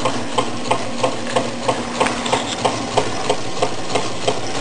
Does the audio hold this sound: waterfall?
no